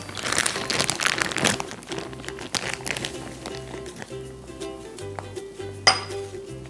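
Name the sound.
scooping homemade ice cream out of a bag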